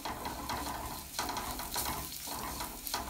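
Chili powder fries and sizzles in a hot pan, a steady close crackle broken by a few stirring scrapes, with no voices.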